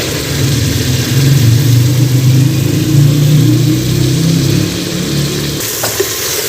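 Minced meat with kachnar fries loudly in a pan as yogurt is added, making a dense, continuous sizzling roar up close that eases slightly toward the end, punctuated by a brief clatter.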